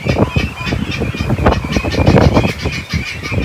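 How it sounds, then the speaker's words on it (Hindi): Guinea fowl and ducklings on an open egg farm call together in a dense, continuous flock chorus of honks, squawks and peeps, loud and near throughout without pause. "और ये आई थी हमारी गिनाफाल की team and second group of ducklings"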